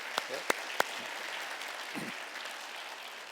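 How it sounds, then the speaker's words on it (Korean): Congregation applause welcoming visitors at a Korean church Sunday service, a soft distant patter of clapping with a few sharp close claps at the start and a brief low voice in the middle. "박수로 환영하도록 하겠습니다"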